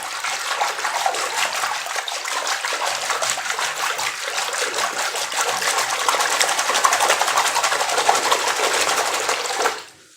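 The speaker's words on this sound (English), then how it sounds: "if I were to run the water," Tap water runs hard into a bathtub, working up soap bubbles: a steady, close rush of splashing flow that stays even, then cuts off abruptly near the end.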